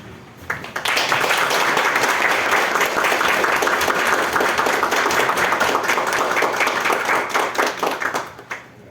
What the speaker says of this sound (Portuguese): eu peço para que todos aclamem a nova diretoria de pé e com uma salva de palmas